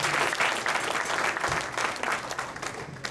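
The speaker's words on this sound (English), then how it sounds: "How about another round of applause?" Audience applause at a school jazz band concert, a full sustained round of clapping from a seated crowd that tapers slightly toward the end.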